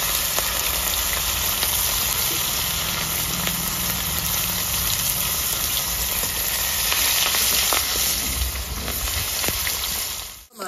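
Fish fries in hot oil in a home kitchen, a loud, steady sizzle and crackle that runs continuously without pause.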